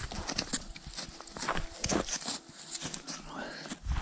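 Percheron horses' hooves clop softly and irregularly as they walk nearby, with faint rustling and shuffling around them.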